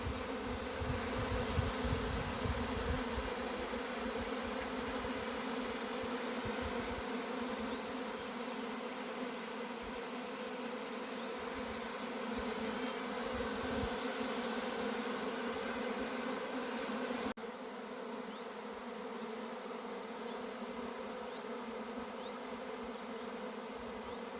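A dense, steady drone of a honey bee swarm leaving its hive fills the air, close and continuous, with no voices.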